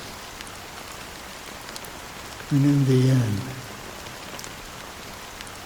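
Steady rain falls in a scene from the video game Honkai Star Rail, a constant even hiss throughout, with a brief spoken line partway through.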